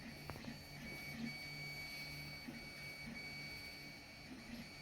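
A Wanhao i3 3D printer lays down infill, a faint steady motor whine with tonal stepper hum and soft periodic blips as the head moves back and forth, continuous and quiet.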